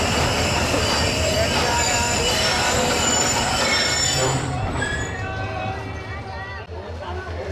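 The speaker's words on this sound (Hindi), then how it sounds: "दोस्तों खानपुर जंक्शन पर नीचे उतरा हूँ थोड़ी देर के लिए और वॉक कर रहा हूँ।" Hazara Express train at Khanpur Junction station in Pakistan, a loud continuous rumble of railcars with squealing wheels, gradually easing toward the end; a voice talks over it.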